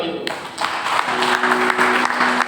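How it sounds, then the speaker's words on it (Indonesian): Congregation applause during a Sunday worship service at a GBI church in Balige, dense clapping that swells after a brief pause and continues steadily, with a faint sustained tone underneath. "Berikan tepuk tangan bagi itu."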